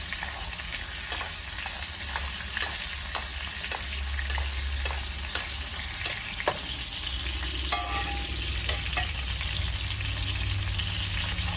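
A steak sizzles steadily in butter with garlic over medium heat, a close, continuous frying hiss broken by scattered crackles and occasional spoon or pan clicks, with no voices.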